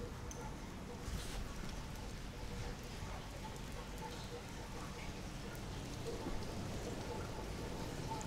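Rain falls steadily outside around a secure courtyard where a homeless person shelters, a constant dense hiss of drops with a few louder patters, unbroken throughout.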